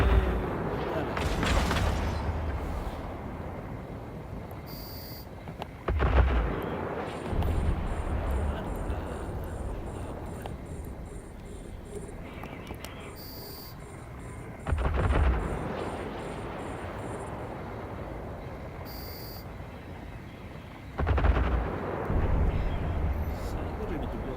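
Repeated heavy weapon fire in the space game EVE Online, deep booming blasts arriving every few seconds over a constant engine-like rumble, with a voice speaking over the action.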